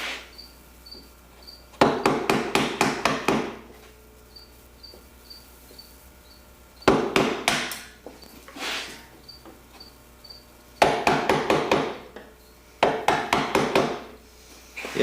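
A chisel is tapped into a wooden door in three bursts of quick, sharp knocks, each a rapid series of five or six hits, close and clear against a quiet room.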